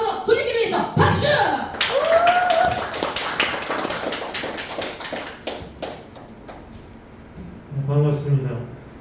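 Audience clapping at a lecture forum to welcome a guest professor, scattered claps breaking into applause, mixed with voices and a whoop, fading as clapping thins toward the end and a voice speaks.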